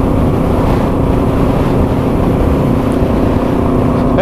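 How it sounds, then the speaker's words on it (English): Strong wind of roughly 30 to 40 mph roars steadily into the microphone while a Yamaha TW200 dual-sport bike rides the Lake Superior ice road, a loud, constant rumbling buffet that covers the whole moment with no talk. "It's blowing, probably blowing 30, 40 mile an hour."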